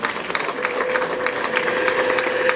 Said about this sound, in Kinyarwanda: Ntabwo mwamwima amashyi kandi yivuze neza.